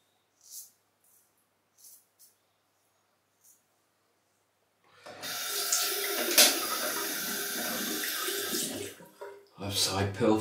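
Tap water running to rinse a safety razor, a steady close gush that starts midway after a few faint knocks and clicks, then breaks into splashing at the end.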